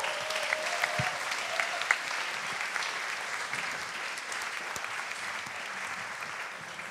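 An audience at a Cambridge Union comedy debate applauds the speakers, a steady, dense wash of clapping that holds at even strength throughout, with no talk over it.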